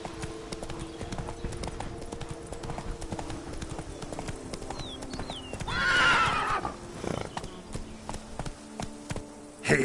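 Roach, a horse in The Witcher 3 on Death March difficulty, clip-clops steadily throughout, with a clear whinny rising midway and some faint talk in the background.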